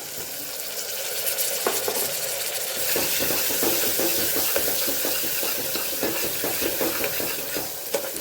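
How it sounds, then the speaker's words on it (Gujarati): Chopped tomatoes sizzle steadily in hot oil over a garlic chutney tempering for lotvadi mix bhaji, with repeated scraping and stirring strokes of a spoon against the pan throughout. "અહીંયા આપણે ટમેટાનો પણ વઘાર કરી લઈશું।"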